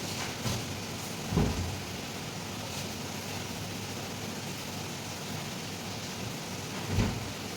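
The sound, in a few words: rain falling outside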